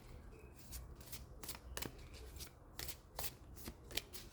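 Tarot cards shuffled by hand in a dimly lit room, a run of crisp riffling bursts and flicks, about a dozen quick close strokes with short pauses between them, no voice.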